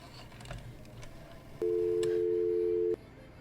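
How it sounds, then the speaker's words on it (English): A steady telephone tone sounds for just over a second, loud and close, over faint background noise with a few clicks. "The phone."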